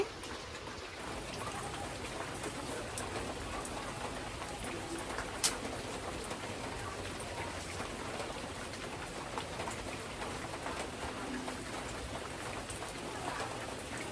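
Steady monsoon rain pours down outdoors near a village kitchen, a dense continuous hiss of drops on surfaces with a single sharp tap partway through, no speech.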